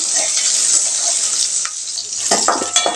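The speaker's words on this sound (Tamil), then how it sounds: "காஞ்ச மிளகா ஒரு பத்து சேர்த்திக்கலாங்க இதையும் நல்லா வறுத்து விட்டுறலாங்க" About ten dry red chillies and tamarind roast in a pan for a garlic and small-onion chutney, sizzling steadily with scraping stirs and a few light clinks of a spoon against metal.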